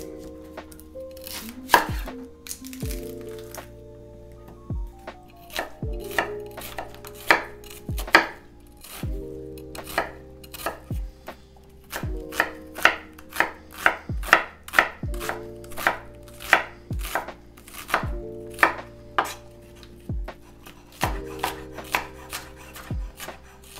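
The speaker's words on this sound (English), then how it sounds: "I'm just gonna make a nice big batch of diced up onions too." Knife dicing onions on a cutting board in a home kitchen: a steady series of sharp, close chopping knocks in irregular bursts, some quick and clustered, continuing alone with no talk.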